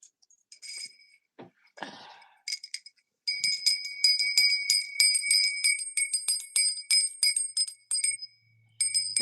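A small hand bell is rung repeatedly, bright metallic dings in quick irregular bursts for several seconds, close and loud after a few faint taps and some handling noise.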